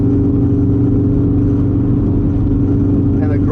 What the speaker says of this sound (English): The revs rapidly accumulate.